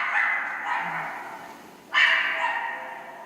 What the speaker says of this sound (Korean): 윗집에서 사는 개들이 짖는 소리가 아래층까지 울려 퍼진 겁니다